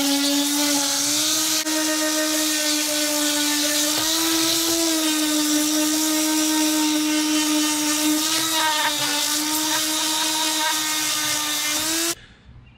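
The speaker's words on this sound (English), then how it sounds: "Let's grab our sander. I'm using 80 grit, okay?" A power sander fitted with 80-grit sandpaper runs steadily on painted wood for about twelve seconds, a loud sustained whine with a strong humming tone, then cuts off abruptly near the end.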